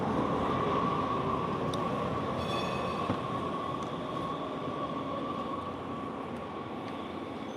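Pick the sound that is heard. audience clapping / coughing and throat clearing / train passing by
train passing by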